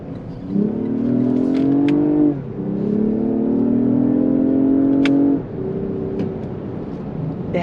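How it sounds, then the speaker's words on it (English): A 2019 Lexus ES 350 F-sport accelerates hard from inside the cabin, its engine note rising steadily through two gear changes and a third climb, loud and smooth with no talk. "I love the acceleration of this car."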